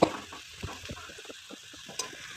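Chillies and chopped garlic stirred in a frying pan with onion, a soft sizzle broken by a few close scraping stirs and light knocks, no speech.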